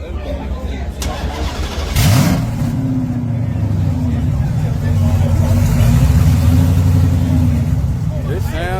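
Race car engine with its exhaust dumped under the car, barking up from a deep idle into a loud, sustained rough rev that holds steady, with voices talking over it.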